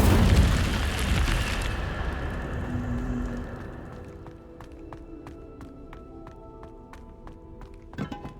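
Incendio fire spell cast in Hogwarts Legacy: a loud fiery burst and whoosh at the start that fades into a lingering crackle, followed by scattered light clinks and taps and a small thump at the end.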